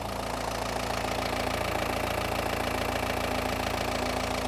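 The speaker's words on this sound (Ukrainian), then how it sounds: "Зараз прогріваємося, нехай він попрацює трошечки" A Manitou telehandler's engine idles steadily while warming up, a continuous loud diesel rumble with faint knocking that holds even and close for the whole stretch, with no voices.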